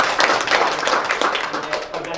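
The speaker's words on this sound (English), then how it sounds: "let's join me to give big applause to Dr." An audience at an academic conference applauds an invited speaker, brisk clapping filling the short stretch, with a voice talking over it.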